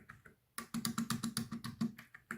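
Fingers type quickly on a quiet computer keyboard, giving a close run of soft, even clicks in a steady rhythm after a couple of faint taps.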